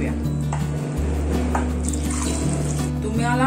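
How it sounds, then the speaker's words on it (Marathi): Water poured into a pot of Goan fish curry cooking on the stove, a steady splashing, gurgling pour heard close up over a low hum. "आता आपण पाणी टाकून घेऊया।"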